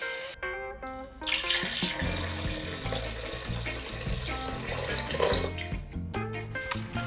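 Tap water pours steadily from a kitchen faucet to measure two cups for soy-braised pork belly, a close continuous rush with shifting pitch as the vessel fills, with no talking.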